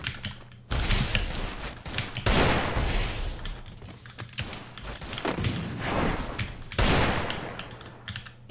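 Rapid bursts of gunfire in the video game Free Fire crackle repeatedly in quick volleys, sharp and close, with brief pauses between rounds.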